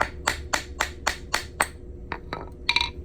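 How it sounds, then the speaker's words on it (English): Sharp metallic hammer blows on a silver 1954 quarter being shaped into a ring on a mandrel, about seven evenly spaced strikes, then a few lighter taps and a bright ringing clink, close and loud with no talk. "And then you just hammer out the thing on the other side to get it back out."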